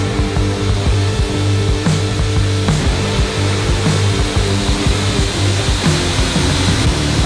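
A 5-axis CNC machine roughs out a tower model, its spindle whining steadily with layered tonal hum while the cutter chatters and knocks in uneven bursts, loud and close throughout.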